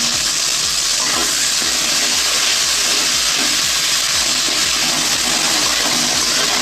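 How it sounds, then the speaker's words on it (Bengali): Ginger and cumin paste hits a hot pan and sizzles with a loud, steady, close hiss that runs unbroken throughout, with no voices over it. "আমি একটু আদা জিরে বাটা দিয়ে দিলাম।"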